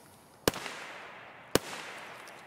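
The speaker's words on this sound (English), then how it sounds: "I'm getting shot at." Two sharp, distant gunshots in Escape from Tarkov, roughly a second apart, each a crisp crack with a short echoing tail across open outdoor ground.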